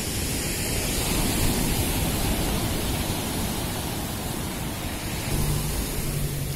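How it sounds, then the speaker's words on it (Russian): Sea waves breaking in a cold English winter, a steady dense roar of surf that stays loud and even throughout with no voices. "если вам доставляет тоже удовольствие слушать шум волн и смотреть на вот эту вот шикарную стихию."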